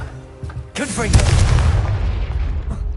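Confringo, the explosive fire spell in Hogwarts Legacy, bursts with a loud booming blast that swells and rumbles on for a couple of seconds, trailing off in a crackling roar.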